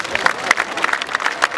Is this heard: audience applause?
yes